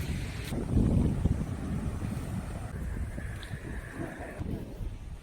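Steady wind buffeting the microphone on an island shore with a low rumbling roar, continuous throughout, with faint outdoor sea ambience and no talking.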